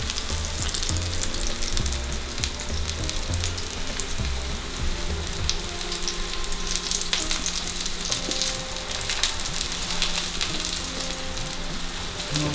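Eggplant fries in a pan over a medium flame with a dense, steady sizzle and crackle that runs unbroken throughout, alone and without talk.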